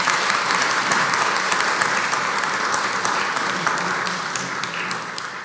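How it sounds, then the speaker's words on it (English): An audience claps steadily for a panel at a report launch, a dense, sustained round of applause that fades slightly toward the end. "can you get a round of applause if you will for our panel?"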